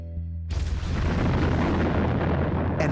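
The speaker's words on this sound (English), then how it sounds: "An underground nuclear explosion on the Lop Nor test range sends shockwaves through the Earth." Underground nuclear explosion at the Lop Nor test range in western China, a sudden loud deep boom after a brief quiet hum, then a long heavy rumble that stays strong to the end.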